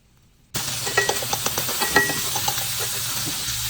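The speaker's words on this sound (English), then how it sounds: "Ooh, look at me stir that bacon quick." Bacon sizzles steadily in a hot pan after being dropped in, with a series of quick utensil scrapes and clinks against the pan as it is stirred briskly, all close up.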